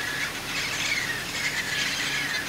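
A dense chorus of wild parrots calls at their evening roost in Harlingen, Texas, a continuous loud wash of overlapping squawks and squeals without pause.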